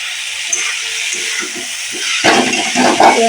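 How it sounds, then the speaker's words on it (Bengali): Drumstick greens with grated coconut stirred while frying in a pan, a steady hiss and sizzle that turns louder and busier with scraping as stirring picks up. "নারিকেল আর এই শাকটা আমি বেশ কিছুক্ষণ এইভাবে নাড়বো"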